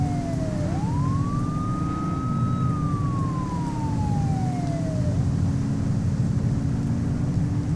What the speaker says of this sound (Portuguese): podemos desligar aqui a sirene